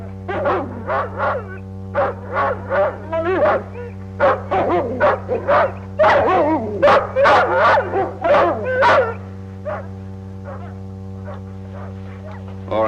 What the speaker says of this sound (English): Dogs make much noise.